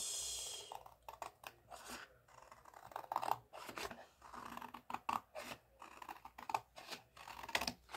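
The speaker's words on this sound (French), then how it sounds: "Et je découpe. Je découpe ici." Scissors snip through paper for craft embellishments in a series of short, crisp cuts spaced irregularly, close and fairly quiet against a still room.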